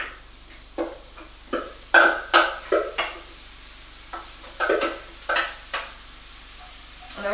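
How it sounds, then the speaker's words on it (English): Riced cauliflower dropped into a hot pan with coconut oil, bursts of sizzling and scraping stirs in short uneven strokes, close and crisp, with quiet gaps of low frying hiss between them. "we're just gonna take all of our rice cauliflower and dump it in"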